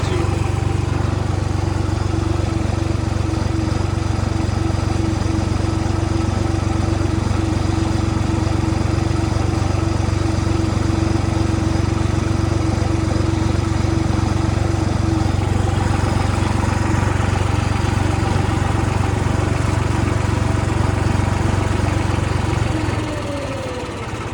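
Continuous engine-driven cutter machine threshing kidney beans (rajma) on a farm, a loud steady mechanical drone with a constant low hum throughout, cutting off abruptly near the end.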